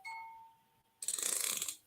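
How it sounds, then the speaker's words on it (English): A novelty toy plays a tinkly chime melody, one steady sustained tone at first, then a bright, busy burst of jingling notes for nearly a second, close and moderately loud with no talking. "he does play Jingle Bells"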